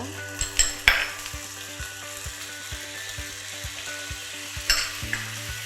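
Chicken and cashew nuts are tossed with sugar, light soy sauce and sesame oil in a hot pan, with a light sizzle and a few sharp clinks of a spatula against metal under soft background music.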